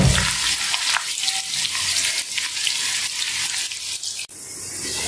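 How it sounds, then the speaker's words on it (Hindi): Chopped onions frying in hot oil in a pan, a steady dense sizzle with soft crackling throughout, close and fairly loud, with a brief clatter near the end and no talking. "ऑयल गर्म हो चुका है, इसमें 3 अदद प्याज लिए, ये डाल देंगे। प्याज को सुनहरा होने तक फ्राई करेंगे।"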